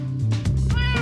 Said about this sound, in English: and the ocelot is your own cat